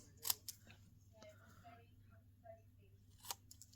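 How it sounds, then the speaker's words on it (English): Scissors snipping through paper card in a few sharp, quiet cuts spaced out over a low steady hum, close to the microphone. "No, I'll do that with the scissors."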